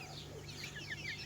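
Several chickens, mostly hens, cluck softly in short, overlapping bursts over a low steady hum, somewhat distant and faint.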